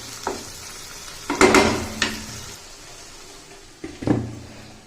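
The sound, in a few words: stirring chana dal with added water in a pan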